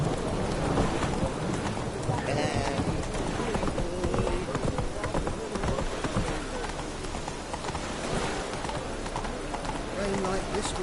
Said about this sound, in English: Rain like this would fetch a fortune in Zerrikane.